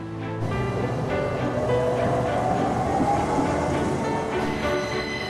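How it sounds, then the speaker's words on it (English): A Swiss train rolls on rails down a town high street in the Alps, its steady rumble and rolling hiss heard from inside the carriage, continuous and moderately loud throughout. "It's a little odd riding a train down the high street."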